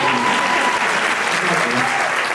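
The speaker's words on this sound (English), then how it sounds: "you can applaud for that" Commencement ceremony crowd at East Carolina University breaking into loud, sustained applause that fills the whole stretch evenly, with murmured voices mixed faintly into the clapping.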